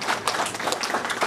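Short burst of applause from an audience at a master certification ceremony, quick scattered claps heard close and fairly loud.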